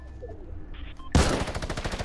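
Minigun fire in a video game: a sudden loud burst of rapid, evenly spaced shots that keeps rattling steadily after a short quiet stretch of faint game ambience.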